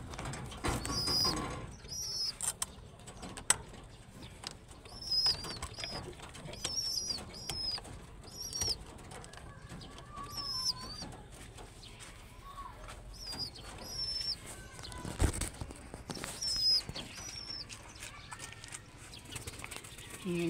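Pet pigeons give soft, repeated coos between bursts of rustling wing flaps. A faint voice talks now and then under the birds.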